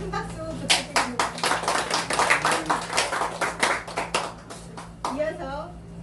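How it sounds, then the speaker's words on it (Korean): An audience at a Korean speech and business course opening ceremony claps for several seconds, a dense, close round of hand claps that thins toward the end, with a voice speaking alongside. "다시 큰 박수 부탁드립니다."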